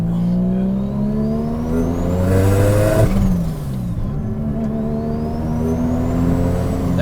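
Mazda RX7 with a swapped 720bhp three-rotor engine accelerating hard, a loud buzzing rotary drone climbing in pitch, a brief break and gear change midway, then rising again, heard from inside.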